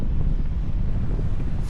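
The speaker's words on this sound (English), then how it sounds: "Super windy out here" Strong wind roars steadily into the microphone at a reservoir while striped bass fishing, a dense low buffeting rumble that fills the whole stretch without pause.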